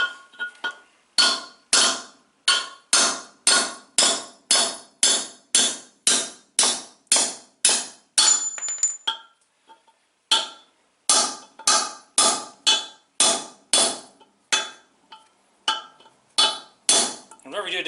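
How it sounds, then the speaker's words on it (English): A bigger hammer strikes metal on a 1978 Chevy K10 square-body truck build: loud, sharp ringing blows in a steady, even rhythm of roughly one per second, with a brief pause midway before the pounding resumes. "When all else fails, grab a bigger hammer."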